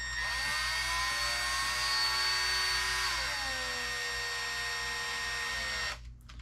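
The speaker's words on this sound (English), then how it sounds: "you could use your driver on the lowest setting with your clutch adjusted all the way down" A cordless power driver on its lowest clutch setting tightens shock parts on a Traxxas Maxx V2 RC truck, a close continuous motor whine whose pitch drops partway through before cutting off near the end.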